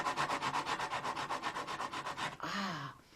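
Rhythmic rubbing on a surface, made to imitate turtles scampering in sand: about a dozen fast, even scratchy strokes close up, then a short sliding scrape before fading out.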